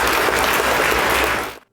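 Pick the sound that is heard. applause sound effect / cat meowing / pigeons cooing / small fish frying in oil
applause sound effect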